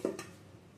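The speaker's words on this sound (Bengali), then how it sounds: "ঢাকাটা বন্ধ করে রেখে দিচ্ছি।" A lid comes down on a bowl of fish roe mixed with lentil paste, making a single soft, close clunk at the very start that fades quickly into quiet room tone.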